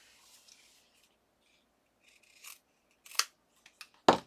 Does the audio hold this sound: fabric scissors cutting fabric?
yes